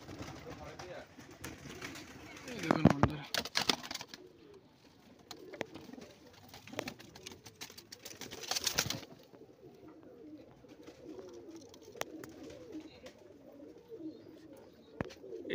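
Pigeons cooing in a cramped loft, soft low coos recurring throughout at close range, with bursts of wing flapping and someone speaking briefly over them.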